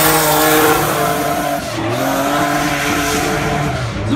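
A drift car attacks the track at around 99 km/h during Drift Allstars qualifying at Trackwood 2016, its engine roaring loud and close with shifting revs and tire squeal as it slides, sustained throughout.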